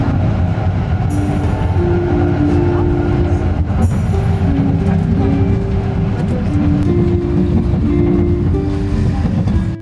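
A tram rolls steadily over an overlay tram turnout, a continuous loud rumble of wheels on rail with metallic squeals and clanks running throughout.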